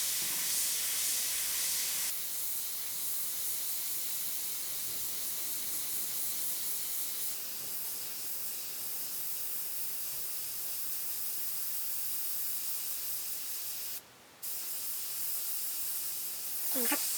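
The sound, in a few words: airbrush spraying paint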